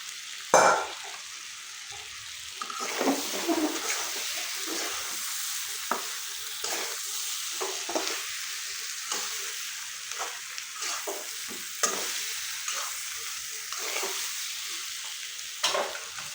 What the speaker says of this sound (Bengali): পাঁচফোড়ন আর জিরের গুঁড়াটা দিয়ে দিব এখন